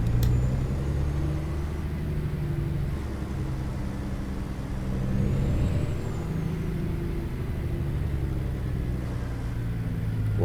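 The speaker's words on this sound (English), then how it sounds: "It looks like we're stopping every tractor trailer truck" A tractor trailer truck in American Truck Simulator sits on the interstate with a low, steady engine rumble and road drone throughout, plus a faint rising whine partway through, with no talking.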